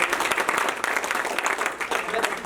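Seminar audience giving a round of applause, dense continuous clapping from a small crowd close by, steady throughout the short burst, with some voices mixed underneath.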